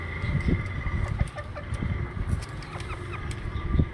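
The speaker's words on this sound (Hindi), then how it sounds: "देखिए, मुर्गी बाहर आ गई और माशाल्लाह से मुर्गा भी बाहर आ गया।" Desi hens and a rooster cluck repeatedly around an opened coop, with short, close, irregular calls over a busy outdoor background.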